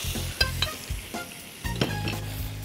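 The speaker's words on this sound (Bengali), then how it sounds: "এখন এই ম্যারিনেট করা মাংসটা আমি দিয়ে দিচ্ছি।" Marinated meat frying in hot ghee and oil in a nonstick pan, a close crackling sizzle punctuated by scraping and knocking stir strokes.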